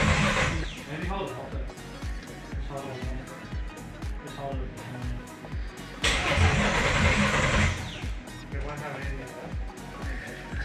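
Turbocharged Ford AU engine being cranked on a first start attempt; a steady, rhythmic starter-motor churn runs for the whole stretch, loud and close, with people talking over it.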